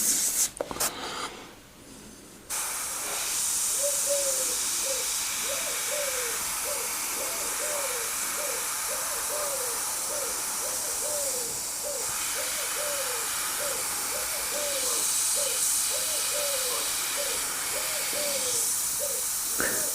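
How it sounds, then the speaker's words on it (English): Pigeons coo outdoors in a steady, rhythmic series of soft repeated calls lasting most of the stretch, over a constant hiss in the background. "And the pigeons are out again."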